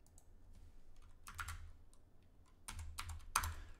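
Computer keyboard typed on while coding in C#, quiet and close, short bursts of clicking keystrokes separated by brief pauses, with one sharper key press near the end.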